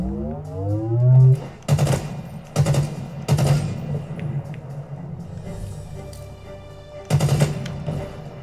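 Gunfire in the video game Halo Infinite on Legendary difficulty: several loud bursts of rapid automatic fire, spaced a second or two apart, with a rising electronic tone near the start and quieter game sounds between.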